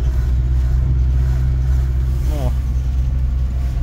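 Cars idling in a long roadside traffic jam near country dachas, a steady low engine rumble close by with a faint passing whine, no voices over it.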